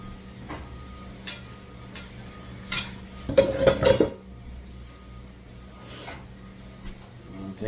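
Chicken dish being plated in a kitchen, with a burst of clinking dishes and utensils in the middle, set among lighter scattered clatter and faint background noise.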